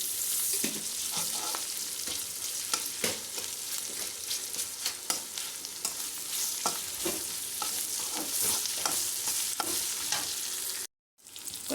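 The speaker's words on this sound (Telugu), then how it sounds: "కొద్దిగా అల్లం వెల్లి పేస్ట్ వేసుకుందాము. హాఫ్ స్పూన్ పచ్చి వాసన పోయే వరకు ఫ్రై చేసుకోవాలి." Ginger garlic paste with turmeric frying in a pan, a continuous loud sizzle crackling close by with scraping stir strokes throughout, cut briefly by a short gap near the end.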